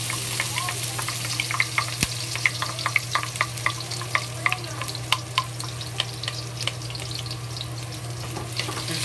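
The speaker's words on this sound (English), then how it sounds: "the oil start frying. We add the ginger, garlic, and ginger," Continuous crackling sizzle of garlic, ginger and scallion frying in hot oil, with scattered sharp pops and a steady low hum underneath.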